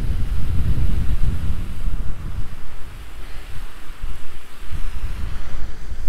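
Steady gusts of wind buffet the microphone beside a lake on a chilly May morning, a low, close rumble that swells and eases with no voices over it.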